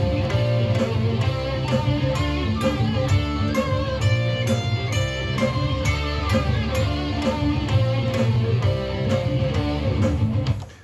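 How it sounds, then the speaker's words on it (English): A dense, steady backing track for a Pirates of the Caribbean style jam plays loud and continuous with a regular pulsing beat and sustained harmony, fading out at the very end, with no talking. "You put the backtrack on now, you can hear it in the background."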